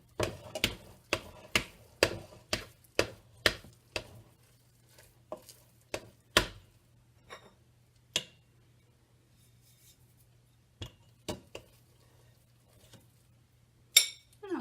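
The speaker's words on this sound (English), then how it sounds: "And that's just one of my big kitchen spoons. And I just mix that around." A big kitchen spoon mixes homemade corn butter in a bowl, giving sharp, close clinks: a steady run of regular taps at first, then sparser, fainter knocks with quiet gaps, and no voices.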